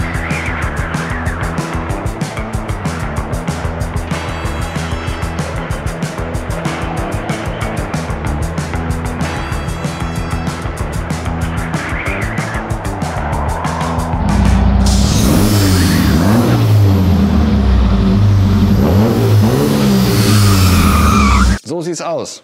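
A car engine roars at full throttle just after starting, a loud sustained rumble with surging revs that runs for about twenty seconds before cutting off abruptly.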